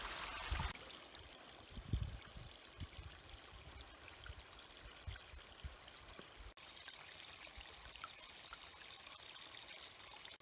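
A winter creek flows gently, a faint, steady trickling wash of water with a few soft knocks early on, heard from close by.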